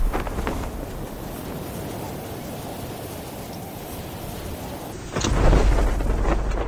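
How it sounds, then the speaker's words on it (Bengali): Rain pours steadily in Call of Duty, then a loud, close thunderclap bursts in near the end and rumbles on under the downpour. "বৃষ্টি শুরু হয়েছে।"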